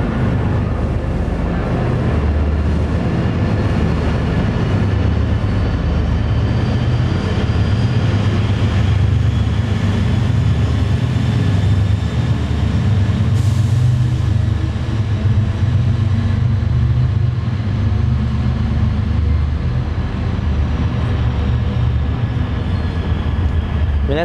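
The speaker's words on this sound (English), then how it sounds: "That sound of the diesel locomotive really shakes up the building." Deep, continuous diesel locomotive rumble in Boston with a heavy low drone and faint whining tones, loud and close throughout.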